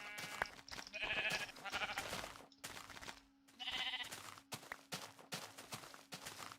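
A flock of sheep in Minecraft bleating repeatedly in several overlapping calls, with soft footstep sounds between them, close and clear with no talk.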